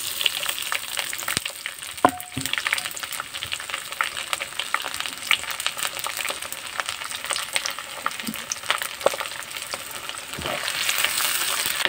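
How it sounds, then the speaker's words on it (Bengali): Onion and chili fry in mustard oil with whole cumin seeds, giving a continuous close sizzle with occasional stirring scrapes and small pops. "আমি পেঁয়াজ আর মরিচ লাল হওয়া পর্যন্ত আমি ভেজে নিব"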